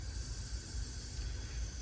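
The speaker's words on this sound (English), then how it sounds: "so let me spray thinner." Airbrush spraying paint thinner while weathering a Bachmann 1:20 scale caboose model, a faint steady hiss of fine spray held evenly throughout, no talk.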